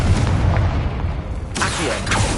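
The Confringo spell in Hogwarts Legacy erupts in a loud, booming explosion with a sustained rumble, followed by a second burst, with no talking over it.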